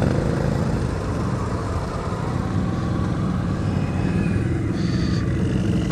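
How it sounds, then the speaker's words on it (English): A brand-new Can-Am ATV on a 6-inch lift runs with a steady, buzzy engine drone during a spring mud ride in Ontario, holding at an even level throughout. "Justin, brand new Can-Am."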